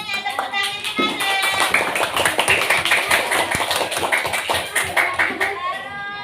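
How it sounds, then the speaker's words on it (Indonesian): Classroom clapping for a pupil: rhythmic hand claps from a group of children, fairly close, mixed with lively young voices calling out over the claps. "tepuk tangan dulu buat Maida"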